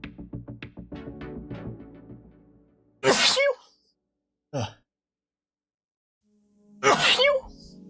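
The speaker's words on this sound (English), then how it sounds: "I'm gonna have to sneeze" A loud, abrupt sneeze, then a second short burst and another forceful sneeze a few seconds later, with a rhythmic vocal sound at the start.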